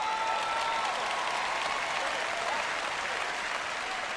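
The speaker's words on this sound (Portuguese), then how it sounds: "Vamos, todos deem uma salva de palmas a Deus." Sustained applause from a church congregation at a Portuguese-language Joyce Meyer sermon, dense steady clapping filling the whole stretch at even loudness with no speech over it.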